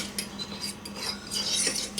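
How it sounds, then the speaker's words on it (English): Homemade coleslaw of shredded cabbage and vinegar-heavy dressing being stirred in a storage container, giving soft, wet scraping and rubbing sounds at close range, quiet and continuous with no talking. "Of course, going to mix it up really good."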